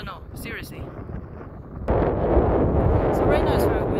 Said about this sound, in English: So right now it's very windy.